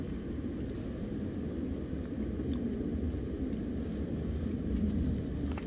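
A distant airplane drones overhead above a snowy winter forest in the High Uintas of Utah, a faint steady low rumble continuing without a break, with no speech.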